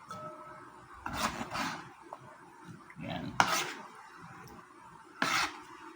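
A knife chops onion on a board while a vegetable salad is prepared at home. Three separate chopping strikes are spaced a couple of seconds apart, fairly quiet, with faint background noise in between.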